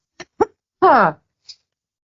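A short burst of coughing: a couple of quick, sharp coughs, then a longer raspy throaty sound and a faint final puff, close by.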